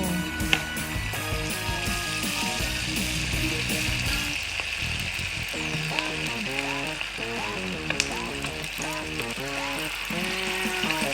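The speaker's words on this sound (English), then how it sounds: "Now we're going to fry our squid rings" Squid rings deep-fry in hot oil, giving a loud, continuous bubbling sizzle that runs throughout at close range, with faint tonal background sounds.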